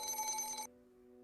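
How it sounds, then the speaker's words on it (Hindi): A telephone rings briefly, a short electronic trill that cuts off abruptly after under a second, quiet and alone with no voices. "एक सेकंड, लगता है कंपनी वालों का फोन है"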